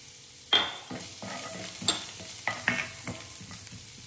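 Ginger and garlic sautéing in oil in a pan, a close, even sizzle punctuated by repeated scraping stirs of a utensil at irregular intervals, alone without speech.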